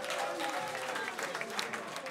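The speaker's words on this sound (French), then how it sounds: "Il faut applaudir" Applause for a performing artist at a Congolese concert presentation, a dense steady clapping crowd for about two seconds, with voices mixed in.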